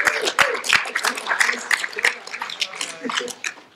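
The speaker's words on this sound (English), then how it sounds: "I think you guys deserve a nice little round of applause." An audience gives a senior engineering class a round of applause at a presentation day, steady dense clapping from a room full of people, close and lively throughout.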